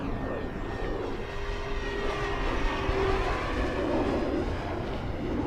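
FMS T-28 1400mm RC model airplane flying inverted overhead, a steady droning electric motor whine with a faint high tone, continuous and moderately distant throughout.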